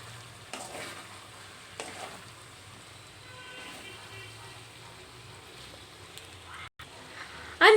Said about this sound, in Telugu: ఇప్పుడు జాగ్రత్తగా ఒకసారి కలుపుకోవాలి.